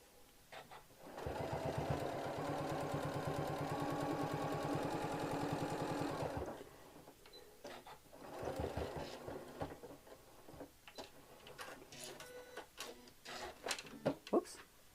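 A sewing machine stitches fabric in a fast, even mechanical whir that runs for several seconds and stops, followed by shorter bursts of stitching and scattered clicks and handling noises.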